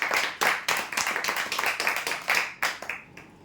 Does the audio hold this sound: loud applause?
yes